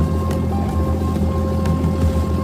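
Small boats working at Pipavav port, heard as a loud, steady low engine drone with a constant hum and faint water wash, close and continuous with no talk.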